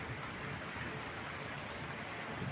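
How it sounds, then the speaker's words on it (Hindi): Heavy rain pours down in a steady, unbroken hiss that stays even throughout, fairly soft in level, with no voices. "ऐसी बारिश तो हम झेल लेते हैं"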